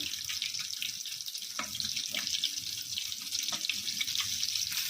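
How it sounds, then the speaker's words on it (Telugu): Small fish fry in hot oil for a homemade KFC-style fish fry, giving a steady, close crackling hiss broken by brief scraping clicks as the pieces are stirred. "ఫిష్ని ఇందులో వేసుకోవాలి వేసుకొని బాగా వేయించుకోవాలి చేపల్ని నెమ్మదిగా కలుపుకుంటూ"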